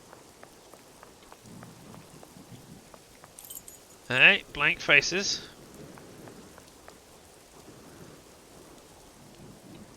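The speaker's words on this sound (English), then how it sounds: "the rain is coming down vertically" Steady rain falls with distant thunder in a Sherlock vs Cthulhu video game, a soft continuous wash broken by a brief louder rumble and clatter midway, with a voice speaking briefly over it.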